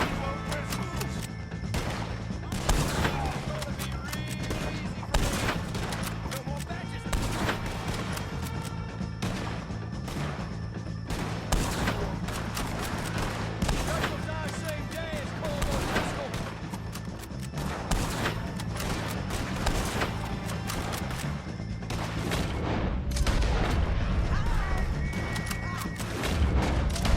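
Gunfire in Red Dead Redemption 2, a dense, continuous fusillade of pistol and rifle shots over a steady game soundscape, with scattered shouts and horse sounds in the mix.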